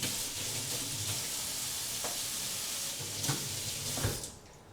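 Running tap water pours over a kitchen utensil as it is rinsed at a sink, a steady hiss of splashing water with a few clinks and knocks, close and uninterrupted until it cuts off at the end.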